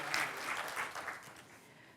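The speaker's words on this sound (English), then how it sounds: "so let's give her a round of applause" Audience at a special board meeting reception claps briefly, a short burst of applause that fades over two seconds.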